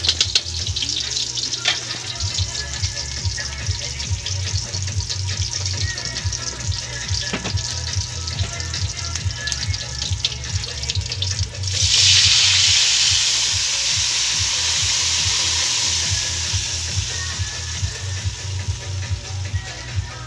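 Pork hamonada sautéing in a pan, a continuous close frying sizzle over a low rhythmic pulsing hum, with a loud hissing surge of steam later on that then settles; no one talks.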